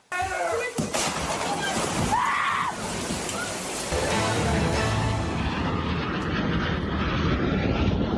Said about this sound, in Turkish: Gösteri için havalanan uçak Akdeniz'e böyle çakıldı.